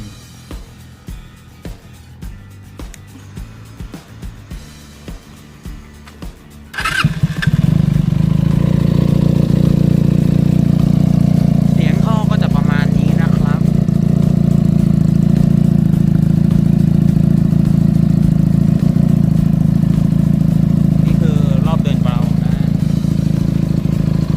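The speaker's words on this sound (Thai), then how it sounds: "เดี๋ยวเรามาฟังเสียงท่อกันเลยนี่เครื่อง" Benelli TNT300 motorcycle with a carbon-tipped slip-on shorty exhaust starts up after quiet clicking, then idles loud and close with a deep, steady rumble and occasional light revs.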